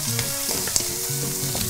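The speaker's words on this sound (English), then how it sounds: "Now we're gonna add our Cajun Trinity in." Cajun trinity of chopped vegetables hitting a hot pan for a bechamel-based mac and cheese, a steady, loud, close sizzle with clattering stirs and a few bright clinks, with no one talking.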